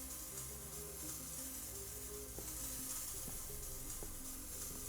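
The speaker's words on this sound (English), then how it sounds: "This is some powerful spray paint." A can of spray paint hisses in the painting game SuchArt, a steady broad spray running under a continuous bed of background music with no breaks.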